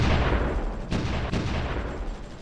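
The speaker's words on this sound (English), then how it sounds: "the artillery is using our precious ammunition right now" Artillery fire in the strategy game Supreme Ruler Ultimate: a dense, continuous rumbling barrage of booms, loud and steady, with a couple of sharper blasts standing out partway through.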